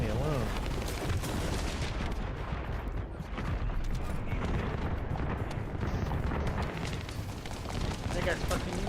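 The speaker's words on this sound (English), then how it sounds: "that's a grenade" Grenade blast in a video game, buried in a dense, continuous barrage of gunfire and explosions that roars nonstop at high volume, with a voice talking over the din.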